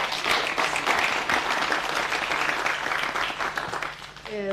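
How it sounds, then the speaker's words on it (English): An audience at a political dialogue event on the Russia and Ukraine conflict breaks into applause, a dense, steady clatter of clapping that carries on for several seconds before tapering off. "We've got to actually give a round of applause to members of the media."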